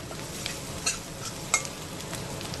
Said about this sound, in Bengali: মিডিয়াম ফ্লেমে 1 থেকে 2 মিনিট নাড়বো। আমি পেঁয়াজকে কিন্তু খুব বেশি ফ্রাই করব না